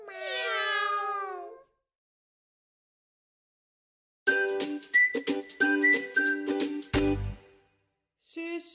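A cartoonish cat meows once in a Hungarian children's song, a drawn-out, wavering cry heard alone before a pause. After it comes a bouncy run of whistled, plucked melody notes with a low thump.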